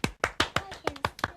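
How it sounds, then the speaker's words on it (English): Children clapping for a winner named Hayley, about eight sharp, close hand claps in a quick, slightly uneven rhythm, no talking over them. "Let's give Hayley a clap."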